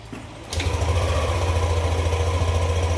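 A Yamaha Nmax 155 V2 scooter engine fitted with a new battery cranks briefly, then catches and settles into a steady, loud, close idle with a fast even thrum for the rest of the clip.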